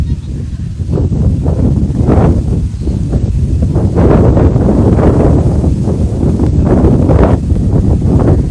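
Wind blows outdoors in loud, steady gusts that buffet the microphone with a rumbling, rustling roar lasting the whole clip.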